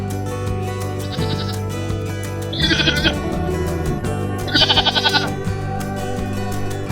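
A pregnant goat bleats loudly three times in a row, each cry wavering and nasal, over a steady low background hum.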